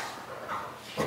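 A dog lets out a short, faint bark or two, distant and muffled, with no voices over it.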